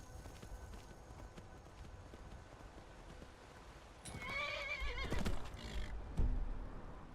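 A horse in the video game Skyrim lets out a loud whinny partway through, with hoof clops and movement around it over a quiet ambient background.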